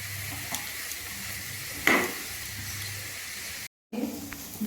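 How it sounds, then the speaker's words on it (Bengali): Bottle gourd pieces fry in ghee in a wok, giving a steady soft sizzle with a brief scraping stir in the middle and a short clink near the end. "এরকম ঘিয়ের মধ্যে কড়াইতে লাউগুলো দিয়ে সুন্দর একটা ব্রাউন ব্রাউন একটু"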